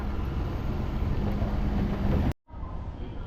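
A crowded Japanese commuter train gives off a steady, loud rumble and rush of rail noise that cuts off abruptly, then resumes at a lower level.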